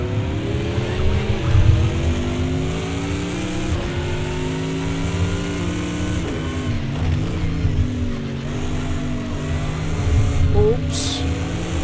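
Racing cars in a video game drone and rev continuously, the engine pitch climbing and dropping through gear changes against a Porsche and an Aston, with someone talking over the steady engine noise.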